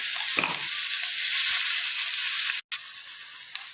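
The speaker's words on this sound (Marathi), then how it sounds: "चांगलं असं मिक्स करून घ्यायचं आहे" Eggplant bharit mixture with asafoetida and chili thecha being stirred in a frying pan, a steady close sizzle of frying with a soft scrape of the spoon near the start and a brief break near the end.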